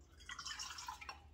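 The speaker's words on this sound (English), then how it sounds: "Put my water first inside this" Water poured into a mixing bowl for pizza dough, a brief, faint trickling splash lasting about a second, heard alone.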